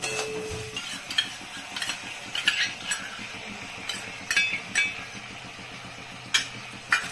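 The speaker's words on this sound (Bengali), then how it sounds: "টক দইটা দিয়ে খুব নাড়তে হবে, নাহলে ফেটে যাবে।" Spoon stirring sour yogurt into an egg rezala gravy in a pan, with repeated light scraping and clinks of utensil against metal at an uneven rhythm, close and moderately quiet.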